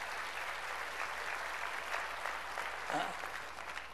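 A church congregation applauding during a sermon, a steady, moderately quiet wash of many hands clapping that holds evenly for about four seconds.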